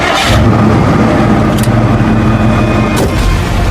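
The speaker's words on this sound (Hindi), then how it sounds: "गाड़ी स्टार्ट करने को चाबी घुमाई तो कार स्टार्ट होने की आवाज के साथ ही" A car engine being started with a key, given as a sound effect: steady loud engine noise runs through with brief bursts near the start and toward the end, no voices.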